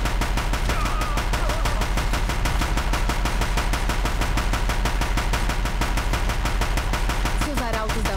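Steady, rapid gunfire in Horizon Zero Dawn rattles without pause from start to finish, loud and dense, with faint voices briefly surfacing near the end.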